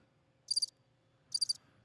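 Two short, bright bursts of cricket chirping, evenly spaced and fairly close, over a quiet, low background hum.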